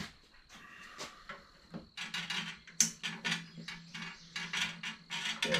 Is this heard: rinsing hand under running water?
no